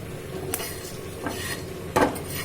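Whole cumin, coriander, fennel seeds and a dry red chilli dry-roasting in a pan, with a few scraping stirs and light rattles of utensil on metal, the loudest knock near the end, over a steady low kitchen hum.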